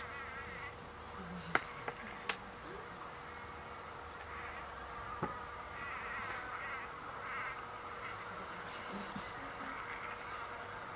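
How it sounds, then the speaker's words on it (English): A faint, high-pitched bee buzz hums steadily at close range as it buzz-pollinates a flower, with a few sharp clicks breaking in, in an otherwise quiet outdoor setting. "It's a bee having a pollen bath."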